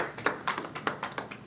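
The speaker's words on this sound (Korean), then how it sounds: "네, 큰 박수로 환영해 주시기 바랍니다." Sparse clapping welcoming a speaker at a social enterprise orientation, a handful of separate claps in an uneven rhythm, fairly quiet and close, with no talk.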